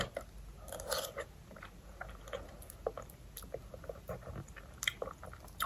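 A banana is bitten and chewed close up, with soft crunchy bites early on followed by repeated quiet, wet chewing sounds, low in level and with no talking.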